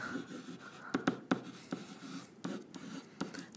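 Marker or pen writing out a math explanation on combining like terms: scratchy strokes with sharp taps, close and fairly quiet, in irregular bursts with no talk.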